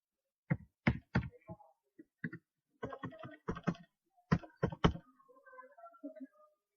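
Computer keyboard keys clicked in quick irregular bursts of sharp, close taps with short pauses, as a password is entered; no talking.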